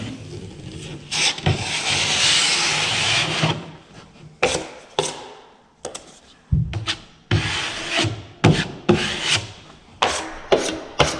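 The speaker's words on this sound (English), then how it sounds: "then I roll the knife out. And then clean it off." A drywall knife scrapes joint compound off a wall on a third taping coat, first one long rasping stroke, then a series of short, sharp scraping passes, close and loud with no talk.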